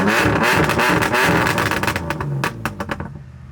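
Subaru BRZ with a flame-shooting exhaust revs hard and loud up close, then drops into a popping, crackling burble of sharp irregular bangs as the engine falls off.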